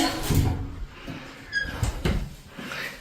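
A door in a villa in Murcia, Spain creaks open with a brief squeal midway, amid soft handling bumps and faint room noise, fairly close.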